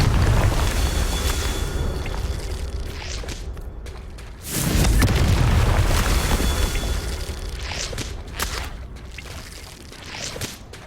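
A Confringo fire spell bursts in Hogwarts Legacy, giving one heavy whooshing boom partway through over a rushing game ambience. Softer swells follow, and no one speaks.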